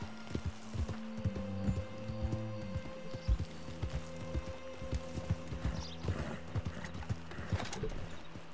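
Horse hooves clip-clop steadily in the video game Red Dead Redemption 2, an even trotting rhythm with soft low tones and ambient game sounds beneath.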